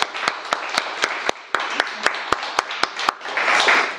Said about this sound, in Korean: 오늘 영상으로 예배드리는 분을 격려하면서 박수 한번 하겠습니다.